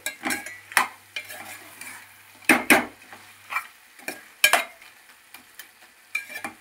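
Chicken curry with onions frying in a pan, heard as repeated stirring and scraping strokes of a utensil against the pan over a soft sizzle, close and alone in irregular bursts.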